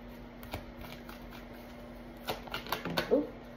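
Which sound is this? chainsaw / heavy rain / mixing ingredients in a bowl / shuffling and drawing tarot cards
shuffling and drawing tarot cards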